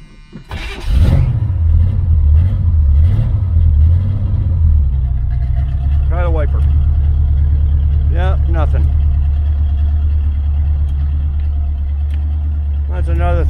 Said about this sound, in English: I'm going to start her up.